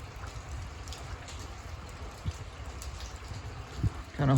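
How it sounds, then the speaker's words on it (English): Steady rain falls outdoors on a cold day, a soft continuous patter with scattered drips nearby, and a few louder knocks near the end. "It's just a rainy day."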